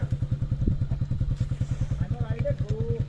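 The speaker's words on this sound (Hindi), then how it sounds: "तो किसी ने अभी बाइक स्टार्ट कर दी है" A motorcycle engine runs close by at a paragliding site in Bir Billing, Himachal Pradesh, with a steady, rapid thumping idle pulse throughout and faint voices in the background.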